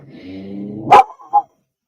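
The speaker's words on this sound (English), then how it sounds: "He's going to go get the dog." A dog gives a low growl that rises into one sharp, loud bark, followed by a shorter second bark, close by with no talking.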